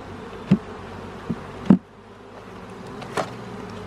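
Bees hum faintly and steadily around an open hive during a fifth-week inspection of a new colony, with a few short knocks and bumps from handling the frames standing out against the low drone.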